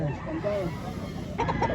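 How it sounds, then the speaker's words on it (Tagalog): A red Kelso gamecock rooster clucks several times at a crowded gamefowl market in Lipa, Batangas, its short calls mixed in with nearby chatter and background crowd noise. "Kelso, red kelso, ano? Ayan, napakagandang manok."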